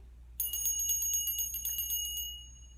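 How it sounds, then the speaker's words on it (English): A bell rung to open a children's yoga session gives one clear struck ring that sustains with bright overtones and slowly fades, with no talking. "we'll start with the sound of the bell"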